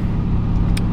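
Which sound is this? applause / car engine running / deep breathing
car engine running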